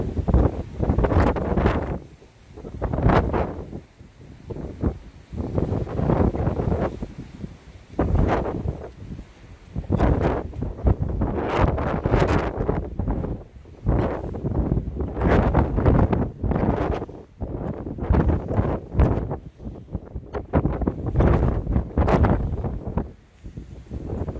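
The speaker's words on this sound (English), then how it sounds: "I think my camera is going to get blown away by this wind." Strong wind buffets a camera microphone atop Atlatl Rock in Valley of Fire State Park, Nevada, loud rumbling gusts coming and going in repeated bursts throughout with brief calmer gaps.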